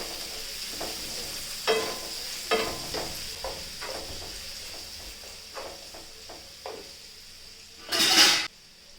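Green chili, garlic and ginger sautéing in a pan, a soft sizzle under repeated spoon scrapes and taps against the metal, ending in a louder burst of hissing, close and without talk.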